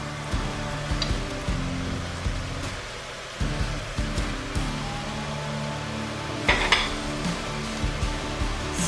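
Onions sizzle in a pan with browned mixed beef and pork, a steady close frying hiss with occasional stirring scrapes and clinks, no voices.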